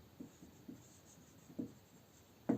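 Chalk or pen writing on a board during an accounting lesson, with a few faint, brief scratchy strokes spaced irregularly in a quiet room, the last one slightly louder.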